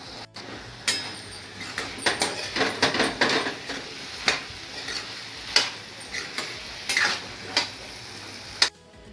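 A spoon clinks and scrapes against a pan as shev bhaji with added water is stirred, giving irregular clattering taps with quiet gaps between them.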